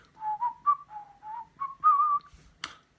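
A person whistles a short, bouncy tune in clear, close notes, ending with a brief sharp click.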